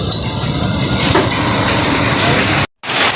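Loud, steady typhoon rain pouring down close by in Manila, a dense hiss that cuts out briefly near the end before resuming.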